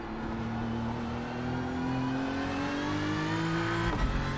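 Race car engine in iRacing at Daytona, a steady droning tone that climbs gradually in pitch as the car passes, close and continuous, ending with a short rough burst.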